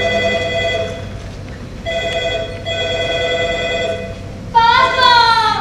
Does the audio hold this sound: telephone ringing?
yes